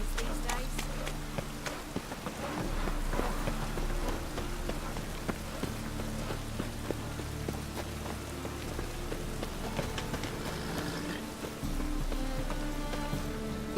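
Steady rain patters down in The Witcher 3: Wild Hunt, a dense, even hiss running the whole time under game music, with occasional soft thuds mixed in.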